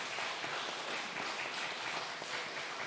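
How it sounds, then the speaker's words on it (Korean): A church congregation applauds during an Easter Sunday worship service, a steady wash of clapping from many hands that stays fairly even and moderately loud throughout, with no voices on top. "하나님께 영광의 박수를 올려드립니다"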